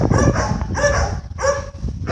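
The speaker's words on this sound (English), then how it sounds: "what if those dogs lose control and then they jump over the gate?" Several dogs bark behind a gate in a run of close, loud barks broken by brief pauses, mixed with yips and whimpers.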